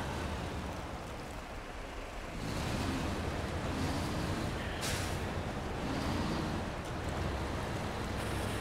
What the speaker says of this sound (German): Jetzt fahre ich hier gerade durch den Fluss durch, mitten durch den Matsch.